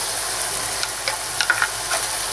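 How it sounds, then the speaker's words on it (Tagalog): Ground meat sizzles steadily in a pan while garlic and onion are sautéed in with it, a continuous frying hiss broken by a few light scrapes as the mixture is stirred, close up with no voices. "continue lang natin yung pagigisa hanggang sa maging golden brown na to"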